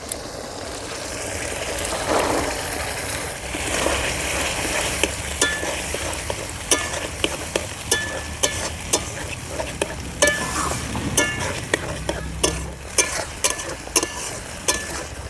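Green peas stirred into frying masala for a village-style matar paneer, with a steady close sizzle and frequent sharp spoon scrapes against the pan, no talking.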